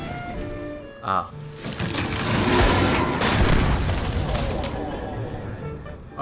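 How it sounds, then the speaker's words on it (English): A loud explosion in the video game Medievil Remaster swells into a long rumbling blast over several seconds, set against game music and preceded by a short sharp effect. "Oh, it's just a straight up explosion, I see."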